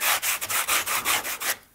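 Coarse sandpaper is rubbed back and forth over leather being thinned for a handmade hunting bag, giving about nine brisk, even rasping strokes that are loud and close before stopping.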